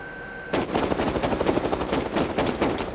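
An animated cartoon helicopter beats with rapid, loud rotor chops after a brief quiet start, the thwacks continuing steadily to the end.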